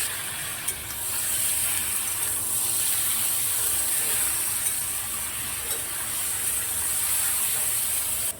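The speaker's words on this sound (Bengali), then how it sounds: "এখন দিয়ে দিচ্ছি লাউগুলো।" Bottle gourd pieces added to hot oil with dried chilli and whole cumin sizzle in a steady, dense hiss that holds for several seconds, fairly close and alone with no talking.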